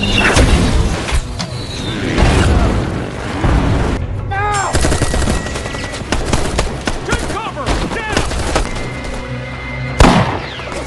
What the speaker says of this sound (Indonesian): Pertempuran terjadi antara kelompok Juan dan para purger.